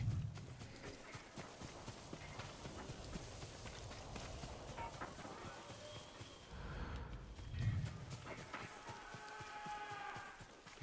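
A horse gallops in the video game Ghost of Tsushima, with rhythmic hoofbeats driving steadily under ambient game sounds and a few breathy snorts.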